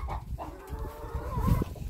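A rooster perched on a sack in a farmyard gives low clucking calls to a hen, short and close, with other farmyard noise behind.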